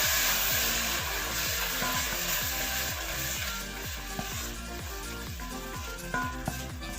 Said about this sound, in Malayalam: ഇനി നമ്മൾ 3 തക്കാളിയുടെ പ്യൂരിയാണ് അത് പേസ്റ്റാക്കി എടുത്തത് ഇതിലേക്ക് വെച്ചു.